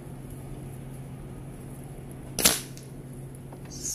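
One crisp Kral Puncher Nish 5.5 mm air rifle shot at a 50-metre target pops midway through an otherwise quiet stretch, a brief snap with a slight trailing decay.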